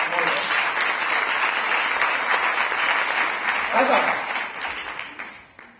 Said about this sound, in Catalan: aplaudiment pel dissenyador del logo